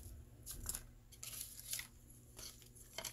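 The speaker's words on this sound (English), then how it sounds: "I'm going to cut so you can see with my scissors." Scissors snip through scraps of paper in a series of short, crisp cuts, close and moderately quiet, with a faint rustle of paper between snips and no talking.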